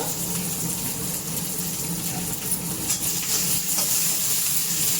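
Green chillies, garlic cloves and onion fry hard in hot oil in a pan, a loud dense continuous hiss and crackle with no pauses, close up.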